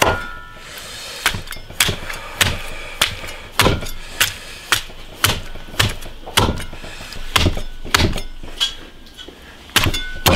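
A cleaver chops cooked pigeon into small pieces on a board, about fifteen loud, sharp whacks in an uneven rhythm, close and with no talk.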